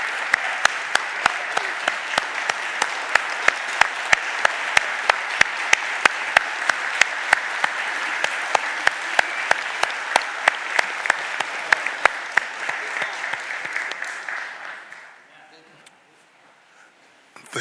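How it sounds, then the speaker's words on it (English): A big round of applause for young people at a city budget hearing, sustained clapping with sharp individual claps standing out, holding steady before tapering off near the end. "Let's get up and give them a real big round of applause"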